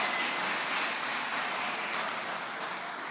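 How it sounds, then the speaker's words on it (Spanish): A church congregation applauding the women, a steady dense wash of many hands clapping, sustained and fairly soft at a distance. "Vamos a dar un aplauso a las mujeres."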